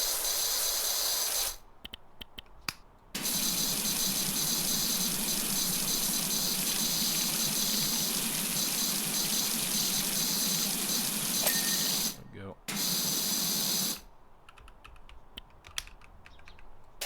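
A pressure washer in a video game sprays water in a steady, loud hissing rush. It cuts out briefly twice, then fades to quieter noise near the end.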